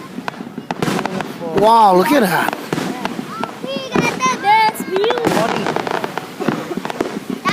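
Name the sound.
4th of July fireworks exploding over Hilo Bay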